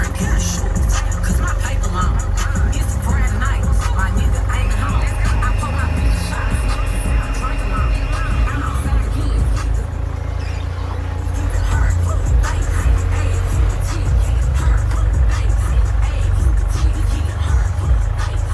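A rock crawler being unloaded from a trailer and driven, a steady engine drone and mechanical rumble running continuously at close range with occasional higher whines.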